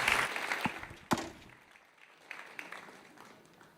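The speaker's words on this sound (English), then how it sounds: "Please welcome her with a big hand of applause." An audience at a Night to Honor Israel event applauds, a scattered burst of clapping with a few sharp individual claps that fades away over a few seconds.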